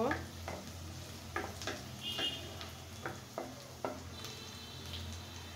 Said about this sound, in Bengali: এখন আমি খুব সুন্দর মতো পেঁয়াজটাকে বেরেস্তা করে নেব।